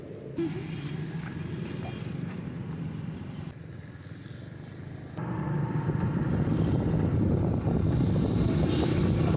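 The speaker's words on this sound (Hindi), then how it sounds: "ये दूसरी बाइक आई है" A second motorbike pulls up at a roadside petrol pump, its engine rumble growing louder and closer in the second half amid wind noise and outdoor ambience.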